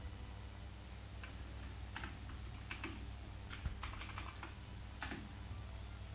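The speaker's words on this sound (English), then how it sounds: "the clicking sound is so satisfying. Yeah, that's definitely why I have this mechanical keyboard" Mechanical keyboard keys clicking in short irregular bursts of typing, close and fairly quiet over a steady low background hum.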